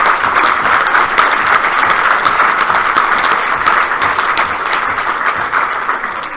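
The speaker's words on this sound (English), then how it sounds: "So if we could give a round of applause." A large audience at the 2019 NDT opening ceremony gives a sustained round of applause, dense and loud, the many hands blending into a continuous roar that holds steady throughout without talking.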